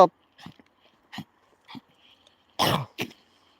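A dog coughs several times, hacking and clearing its throat in short separated bursts, ending with a louder, harsher cough pair, close and alone with no talk.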